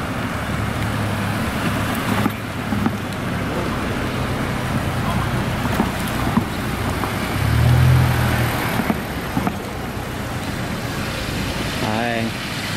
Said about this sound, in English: So we got a little parade of cars coming in.